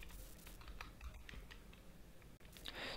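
Keystrokes typed on a computer keyboard while entering text along a curved path, quiet and fairly close, with irregular clusters of clicks and a short pause near the end before a brighter burst.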